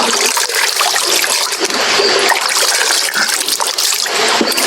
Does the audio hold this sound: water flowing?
yes